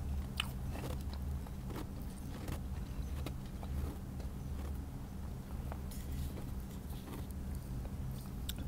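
Close, quiet biting and chewing of strawberry daifuku mochi with soft ice, soft sticky mouth sounds broken by scattered faint crunches against a low steady background.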